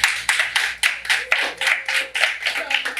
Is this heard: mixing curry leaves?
no